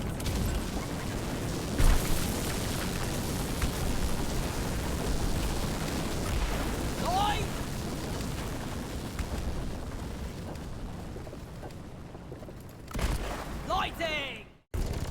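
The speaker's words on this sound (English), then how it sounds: "Hit the button on the lift pod to fire it up. Lift rockets are returning with the goods." Lift pod rockets in Deep Rock Galactic fire up with a loud, sustained roaring rumble, sharp whooshing bursts cutting through near the end, then the roar surges and cuts off abruptly.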